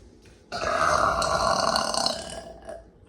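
A long, deep human burp rising sharply and holding loud for about a second and a half before tailing off, with a small trailing grunt near the end, heard alone.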